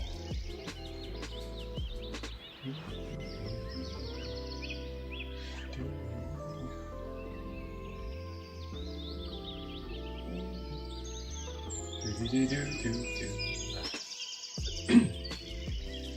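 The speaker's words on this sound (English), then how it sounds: "are those birds really loud?" Birds chirp and call continuously, fairly loud and close, with a busy layer of overlapping tweets over a low background hum.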